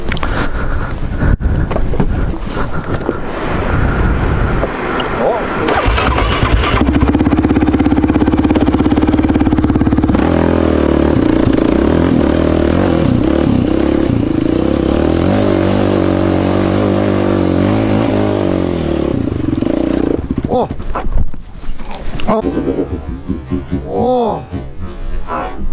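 A Yamaha Raptor 700 ATV engine runs close and loud throughout a ride, its revs rising and falling smoothly under gentle throttle, with a rider's voice heard over the steady mechanical roar.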